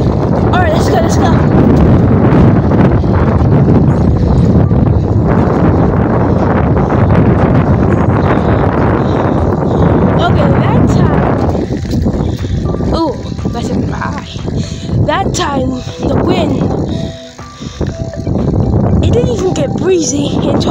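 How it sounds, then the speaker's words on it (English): Heavy wind buffeting a microphone while riding a bike fast downhill, a loud continuous roar that eases and gusts toward the end, with brief bits of a voice. "Breezy until I went down the hill. And the wind was pushing me literally."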